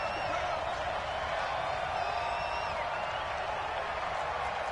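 Crowd at an NFL playoff game roaring in a steady, dense wash of cheering and applause, with a commentator's voice faintly underneath.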